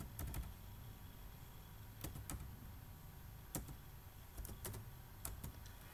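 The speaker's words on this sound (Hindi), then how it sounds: "तो चलो उसके लिए नंबर यहाँ पे टाइप कर देता हूँ मैं" Quiet, irregular bursts of computer keyboard key taps as a phone number is typed in, faint and close, with no voice over them.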